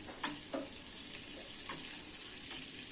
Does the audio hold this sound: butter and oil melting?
yes